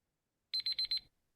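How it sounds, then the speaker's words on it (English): A quiz buzzer sounds at a live quiz contest: four quick, identical high electronic beeps in a tight rhythm, loud and clear after a short silence. "On the buzzer is Adarsh"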